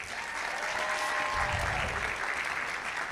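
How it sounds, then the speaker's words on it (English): A school board meeting audience breaks into sustained applause, steady clapping filling the room for a few seconds at even loudness. "Please give them a big round of applause."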